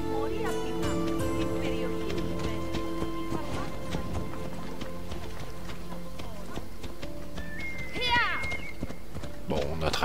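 Horse hooves clip-clop at a steady gallop through Assassin's Creed Odyssey, running continuously under game music and ambience while a voice talks over it.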